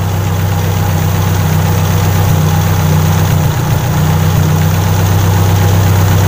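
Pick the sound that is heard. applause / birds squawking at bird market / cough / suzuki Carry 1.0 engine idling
suzuki Carry 1.0 engine idling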